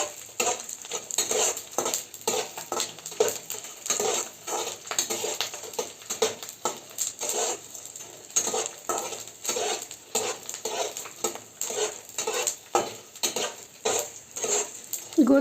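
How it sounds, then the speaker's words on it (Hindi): Edible gum being fried and stirred in a pan over medium heat until light golden, a steady sizzle with constant scraping and clinking stir strokes, close and fairly loud throughout, no voices. "इसी तरह चलाते हुए मीडियम आंच पे फ्राई करना है"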